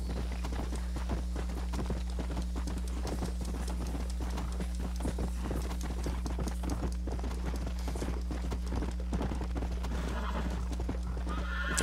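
In the video game Red Dead Redemption, a horse's hooves clip-clop steadily and continuously over a constant low background hum, with an occasional whinny mixed in.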